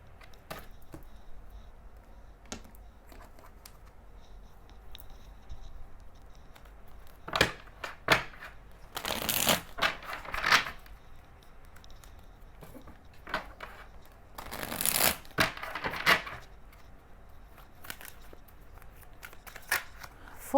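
A deck of tarot cards is shuffled close by in quiet bursts, with soft riffling and handling clicks around two clear flurries and faint card noises in between.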